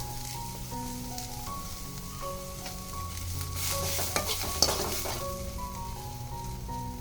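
Dried red chillies sizzle and fry in a hot pan while being stirred for chicken sambar, a steady close crackle with occasional utensil clinks and a soft hum underneath.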